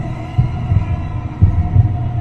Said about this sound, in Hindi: ये सुनते ही रमेश का दिल तेजी से धड़कने लगा।